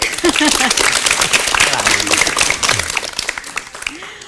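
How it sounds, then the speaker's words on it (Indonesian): Studio audience applause at a televised Indonesian language programme, clapping mixed with a talking voice and fading gradually toward the end. "Boleh beri tepuk tangan?"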